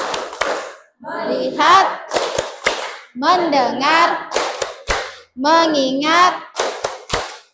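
A classroom of children performs a rhythmic focus clap, with sharp group claps in short bursts alternating with the class chanting words together in unison.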